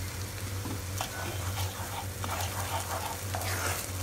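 Soya fry being stirred in a pan, a continuous close sizzle of frying with soft scraping strokes of the spoon repeating throughout, no voices.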